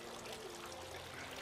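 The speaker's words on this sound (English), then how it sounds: "The next thing I'm going to add to my pot is some freshly squeezed grapefruit juice." Freshly squeezed grapefruit juice and water pour steadily into a cooking pot, a continuous close trickle with no talking.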